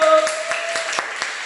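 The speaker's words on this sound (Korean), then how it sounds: "박수!" A children's worship congregation claps in a church, a short burst of steady rhythmic hand claps at even pace, fairly close, with a faint held tone underneath.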